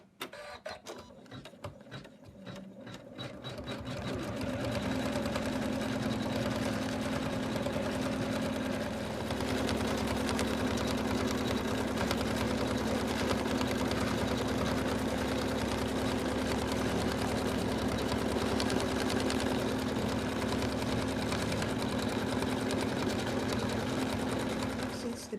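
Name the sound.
embroidery machine stitching stippling quilting on snowman stocking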